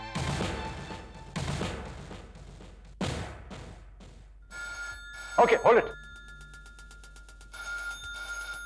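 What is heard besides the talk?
telephone ringing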